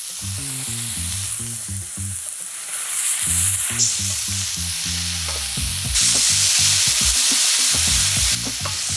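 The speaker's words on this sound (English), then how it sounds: "we're going to add some onion" Chopped onion added to mushrooms frying over medium heat, a loud bright sizzle that surges as the pan is stirred, under a rhythmic musical background with no talk.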